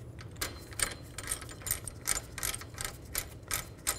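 A ratchet tightening a washer on an axle puller with slide hammer while replacing rear wheel bearings on a 2000-06 GMC Yukon, giving rapid close metallic clicking in short bursts over faint background hum.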